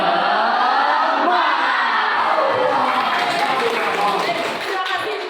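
A school class doing the rhythmic tepuk semangat clapping chant: many children clap and call out together in a steady, loud, continuous burst that fills the room.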